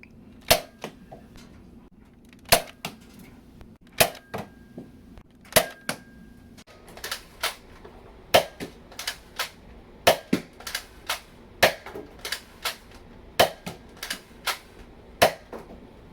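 A Nerf Rival Finisher blaster fires foam rounds in a steady series of sharp, loud cracks, spaced irregularly at first and then coming faster in quick bursts, with no talking.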